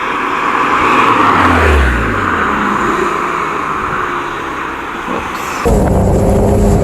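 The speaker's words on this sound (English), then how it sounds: "Now we can hear it already. Of course, let's take it up in the RPM range." A 2012 Porsche 911 Carrera 4 GTS cabriolet engine revs up through the RPM range, loud and close with wind rush, then shifts sharply near the end of the run.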